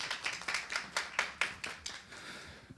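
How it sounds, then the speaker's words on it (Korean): An audience at a debate competition final claps to welcome a debater, a sparse, uneven run of individual hand claps, fairly close, that thins out and fades toward the end. "자, 박수로 환영해 주시기 바랍니다."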